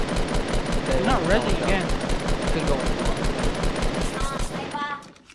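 Fortnite Battle Royale gunfire aimed at a jump pad: fast, rattling automatic bursts that run nearly continuously and close up, with people talking over it and the shooting fading near the end.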